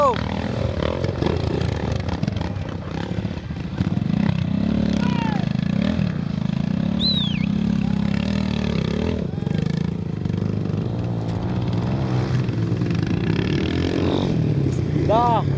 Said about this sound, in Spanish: ¡Cuidado la moto!